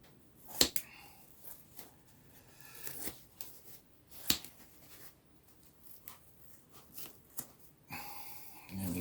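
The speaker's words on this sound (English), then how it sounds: "I'll just use some scissors just to get it into some smaller pieces." Several sharp, quick scissor snips and soft crunching cuts through sponge at an uneven pace, close and fairly quiet, with faint rustling between.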